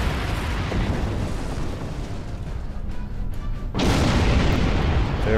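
A starship in Star Trek Online takes torpedo fire, a sustained low rumbling roar that thins out before a sudden loud boom bursts in and rolls on to the end.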